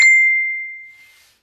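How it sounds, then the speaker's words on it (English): A single bright mobile phone notification ding rings out clearly and fades smoothly over about a second, with no talking. "My phone just dinged."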